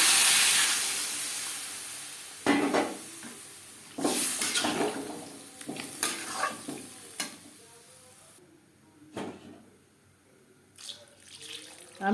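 Water is poured into a pan of potatoes frying in spiced oil for a thin Bengali fish curry. It gives several bursts of loud hissing and splashing that settle into softer sizzling between pours, with a few clinks of a utensil.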